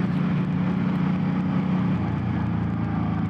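A Suzuki M50 motorcycle slows under engine braking with a steady, close engine drone whose tone drops partway through. Wind rush sits underneath, and no one speaks.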